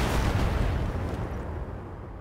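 In the game MechWarrior Online, a mech fires a weapon shot at an enemy mech: one heavy, booming blast that rolls off into a long fading rumble, loud and close.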